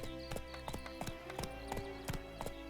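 Roach, a horse in The Witcher 3 video game, trots with a steady, rhythmic clip-clop of hooves, about eight crisp close strikes over a low ambient bed, with no voices.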